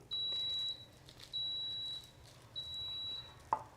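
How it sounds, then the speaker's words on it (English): An Instant Pot beeps in the background, three long high-pitched tones with short gaps between them, faint and a little distant, then a brief clatter. "Y'all hear my Instant Pot going off behind me."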